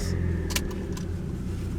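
A car with a turbocharger and Tomei exhaust headers idles with a low, throbbing engine rumble, close and steady over a couple of seconds, with brief hissy turbo bursts on top.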